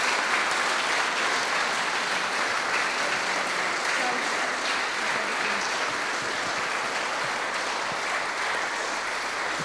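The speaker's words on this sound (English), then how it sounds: "So a big round of applause for everybody who's worked so hard." A crowd at the Springfield Scottish Squash Open finals ceremony gives sustained, dense applause that holds at an even level for nearly ten seconds, a broad wash of many hands clapping together.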